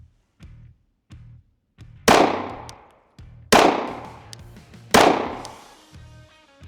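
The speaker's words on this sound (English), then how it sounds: "here we're gonna have Greg apply those same fundamentals of marksmanship correctly. Put them all together and let's see what that looks like" Three loud, close pistol shots ring out at steady intervals during marksmanship practice at a shooting range, each with a sharp crack and decaying echo, between quieter low thumps.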